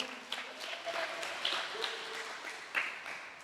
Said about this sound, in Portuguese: dê um forte aplauso ao Senhor Jesus